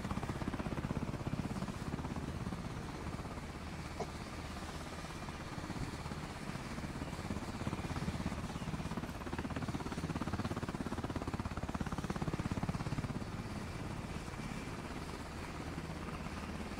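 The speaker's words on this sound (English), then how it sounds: "Look at this excellent helicopter." A helicopter in the video game BRM5 gives off a steady engine whine and rotor chop, a dense continuous drone at moderate loudness throughout, with no voices.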